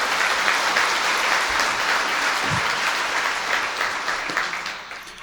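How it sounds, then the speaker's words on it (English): A crowd audience breaks into a sustained round of applause, dense and fairly loud, tapering off slightly at the end, with no voices over it. "Let's have a round of applause for that person's foresight"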